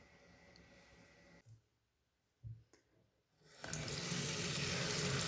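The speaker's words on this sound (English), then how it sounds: "I decided to wash them in some soap and water" Nettle fibres being washed by hand in soapy water in a sink: a few quiet splashes and clicks, then a tap runs in a steady, fairly loud stream to the end.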